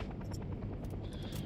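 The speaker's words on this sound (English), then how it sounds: "Now let's redeploy next to a transport helicopter" A transport helicopter in the Vietnam-era video game Hell Let Loose thumps with a steady rotor chop and engine hum, a short, continuous stretch heard close.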